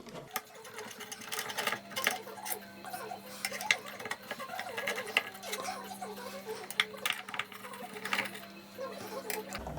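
Screws are backed out of a Boots Auto 8 Zoom De Luxe 8mm projector with light metallic clicks and small rattles, a faint steady hum running beneath the irregular close taps.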